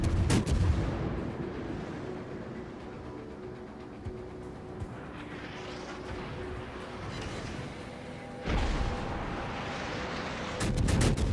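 Naval artillery fire in the World of Warships video game, with heavy booming gun blasts opening and closing the stretch and a rumbling battle din in between, heard alone with no talk.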